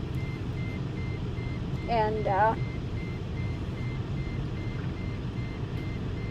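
A steady, faint electronic beep repeats at an even pace in the background, like a vehicle's reversing alarm, under outdoor hum, while a person speaks briefly and a bird chirps nearby.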